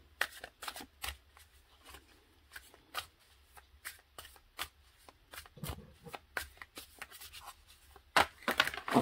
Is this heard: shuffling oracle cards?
yes